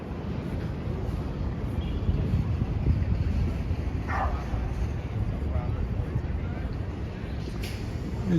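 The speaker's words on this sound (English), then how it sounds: "It's a dog run." Dogs bark and yip at a dog run in Washington Square Park, New York City, in winter, mixed into steady outdoor city noise with people talking nearby.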